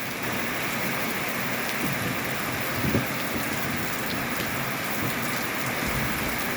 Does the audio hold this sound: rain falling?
yes